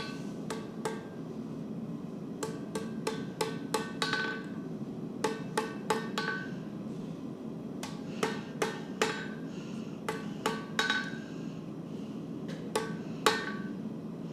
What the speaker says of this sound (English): we're just going to hammer that again to be about straight